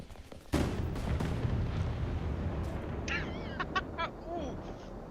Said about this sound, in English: John, you hear that explosion? That was 400 kilograms